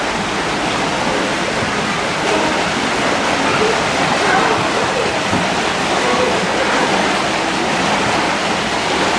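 An indoor water feature in the lobby of the Wilderness Lodge hotel runs steadily, a constant broadband rush of falling water filling the whole stretch with little change.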